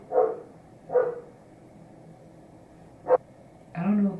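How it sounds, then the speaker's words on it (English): A dog barks nearby indoors, with three separate short barks spread over a few seconds and a longer, lower woof at the end. "I don't know whose dog that is."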